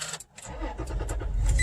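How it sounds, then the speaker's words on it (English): Toyota Tacoma pickup with a key fob starting problem, started by push-button: a brief click and pause, then the engine cranks and catches into a rising, steady rumble close by. "Push engine switch."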